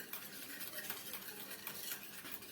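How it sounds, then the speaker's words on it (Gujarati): Faint, quick repeated scraping strokes of yogurt being whisked in a bowl for aloo tikki chaat, with no voices. "હવે આપણે દહીંને ફેટી લેવાનું છે"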